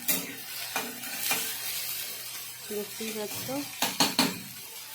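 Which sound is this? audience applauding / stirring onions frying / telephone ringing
stirring onions frying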